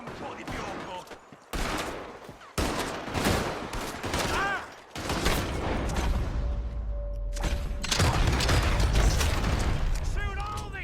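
Rapid bursts of gunfire crack through a Red Dead Redemption 2 shootout during a heist, loud overlapping shots and volleys with a humming tone between, while characters shout over the fight.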